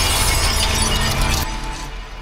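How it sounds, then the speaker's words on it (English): Layered glass and pottery smashing combined into a mirror-shattering blast, a dense loud crash of breaking shards with a bright spray that thins and decays over about two seconds, no voices. "this mirror blast was achieved by basically combining several glass and pottery breaking sounds"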